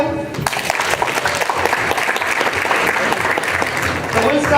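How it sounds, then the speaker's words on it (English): An audience breaks into applause at a stage show, with dense clapping swelling after a brief quiet start and holding steady, and a few voices in the background. "Can we just clap for them?"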